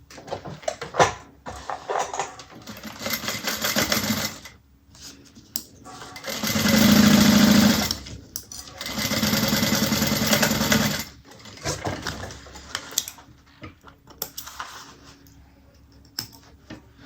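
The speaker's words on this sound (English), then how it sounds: "get this sewn on at 3/8 of an inch, just like we did the exterior" A sewing machine stitches a 3/8-inch seam on a convertible bag in bursts of rapid whirring, two long runs in the middle separated by short pauses, with scattered handling clicks and shuffles around them.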